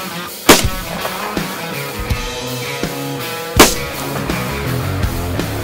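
AR rifle shots ring out at an outdoor range during a shooting match between brothers, two sharp loud reports several seconds apart with softer, smaller impacts and background noise between them.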